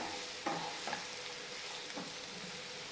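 Capsicum with salt is stirred in a frying pan, giving a soft close sizzle punctuated by a few distinct scraping strokes of a spoon against the pan, quiet overall with no talk.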